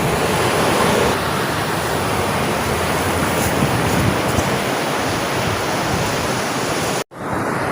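Big ocean waves crash and wash steadily onto a beach, a dense continuous roar of surf with wind noise on the microphone, cutting out abruptly just before the end.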